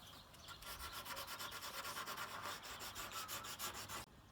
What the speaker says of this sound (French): l'effet shabby chic on l'obtient en ponçant les arêtes du meuble pour lui donner un